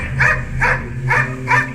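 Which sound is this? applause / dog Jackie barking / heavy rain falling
dog Jackie barking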